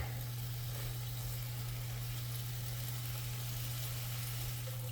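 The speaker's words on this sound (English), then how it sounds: "We have that bacon over-rendering fat" Bacon frying in a pan and rendering its fat gives a steady, even sizzle throughout, with a constant low hum underneath.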